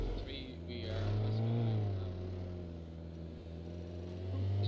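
A car engine in an Arma military simulation game runs steadily with a low droning hum, rising and falling slightly as it drives, while people talk over it throughout.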